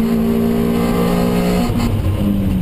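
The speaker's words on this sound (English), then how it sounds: "So Matt Wallace passes those two cars at McLean's" Toyota MR2 race cars at Donington Park roar past in a steady, loud engine drone, with the pitch shifting as they pass, during a championship race.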